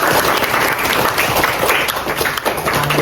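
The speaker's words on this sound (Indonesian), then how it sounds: "Tepuk tangan untuk kita semua." An audience at a university teaching session applauds in a dense, steady burst of clapping that fills the short moment without pause.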